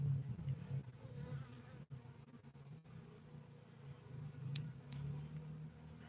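Honeybees buzzing inside a hive at a mentor's apiary make a steady, low, close drone with no talk, broken only by a couple of faint clicks.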